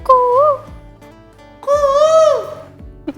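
A man imitates a cuckoo's call with his voice, giving two whistled, tuneful notes, a short one and then a longer, louder one a moment later, with quiet pauses around them.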